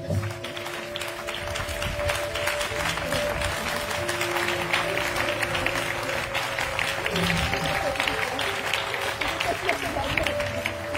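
A church congregation at a revival service claps and cheers in sustained, dense applause, with voices mixed into the crowd noise and a held tone running beneath.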